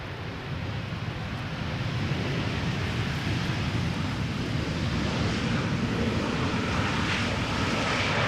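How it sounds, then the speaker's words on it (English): A KLM airliner arriving from Malta at Schiphol airport gives a steady, broad engine roar that holds throughout, with some wind noise on the microphone. "KLM Malta arriving from Malta."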